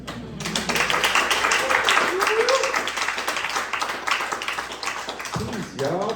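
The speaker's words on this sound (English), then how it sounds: "Keep the applause going for yourselves." An audience at a poetry event in San Francisco claps and applauds, a dense patter of hands that keeps going steadily while a voice speaks over it.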